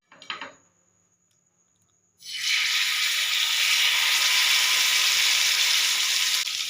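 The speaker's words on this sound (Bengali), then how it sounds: "এই তো মাছটা ফ্রাই হচ্ছে।" Fish laid into hot oil on a tawa for masala fish fry breaks into a sudden loud, steady sizzle after a short quiet clatter, holding close and even to the end with no talk.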